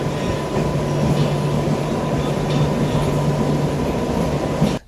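Kachiguda to Raichur MEMU passenger train on the move, a continuous rumbling roar with a steady low drone and faint rhythmic rail texture, close and uninterrupted until a sudden cut at the end.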